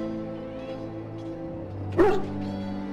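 A dog in Dragon Age: Origins gives a single short whimpering yelp over a low, steady game ambience.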